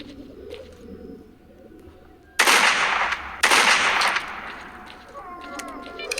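Loud close gunfire in the Stalker video game: two sharp bursts of shots crack out, each tailing off with a ringing decay, over a soft ambient background.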